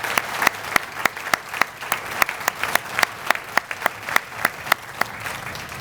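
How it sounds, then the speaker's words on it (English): Sparse, evenly spaced claps ring out in a hall at a police promotion and retirement ceremony, applauding cadet program participants, a small audience clapping in a steady, crisp rhythm. "Let's give them a round of applause for their participation and completion of the program."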